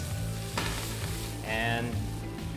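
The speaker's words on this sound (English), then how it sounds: "people really love things like this, and it's sizzling and it's hot." An extra-spicy dish sizzles hot in a pan, a steady crackling fry with a brief stirring scrape partway through, close and moderately quiet with no talking.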